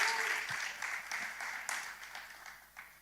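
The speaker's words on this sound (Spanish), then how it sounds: "aplauda al Señor" A church congregation applauding during a sermon, a sustained roomy wash of many hands clapping that gradually fades, with a few louder individual claps standing out.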